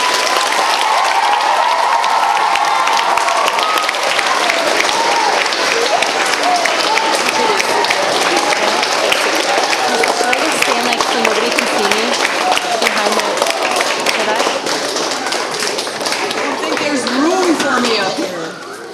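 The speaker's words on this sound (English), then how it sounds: "Let's give a nice round of applause for Carolyn Bearcola." Sustained audience applause fills a school concert hall at a 5th grade music concert, dense steady clapping lasting nearly twenty seconds at close, loud level before tapering slightly at the end.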